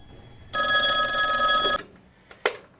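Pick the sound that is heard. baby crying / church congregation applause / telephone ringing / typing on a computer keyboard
telephone ringing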